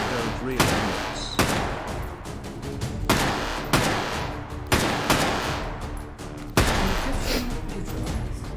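Loud gunshots in the VR shooter H3VR ring out in about seven sharp, heavy blasts at irregular intervals, each followed by a ringing tail of echo.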